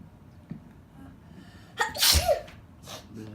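A single sharp human sneeze breaks a quiet indoor room, preceded by a faint intake of breath and followed by a brief fading exhale.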